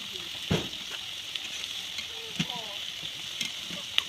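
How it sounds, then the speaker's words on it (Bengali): Broccoli fritters frying in a pan over a medium-low gas flame make a steady sizzle with a few sharper pops and spatters. A voice is briefly heard underneath. "আমি একে একে এই বড়াগুলোকে ভেজে নেব"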